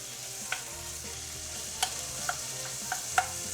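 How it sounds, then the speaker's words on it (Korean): Beef for rice cake soup stir-fries in a pan as the outer surface browns, giving a soft, continuous sizzle with a few sharp scraping taps of the utensil, close and without talk. "그리고 고기 겉면이 익을 때까지 달달 볶아주세요."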